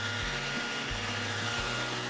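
A Guarani knapsack power mist blower runs steadily with a continuous airy engine whine and rushing blast, its drone pulsing slightly in a regular rhythm, close and alone.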